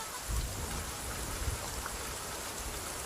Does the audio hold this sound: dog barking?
no